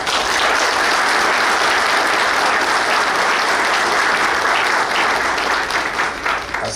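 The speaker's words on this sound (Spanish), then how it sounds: "quiero agradecer a Natanael Concepción, a quien pido un fuerte aplauso." Sustained, loud applause from a crowd at a political party event, steady and dense for the whole stretch, easing slightly at the very end.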